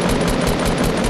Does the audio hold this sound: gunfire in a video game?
yes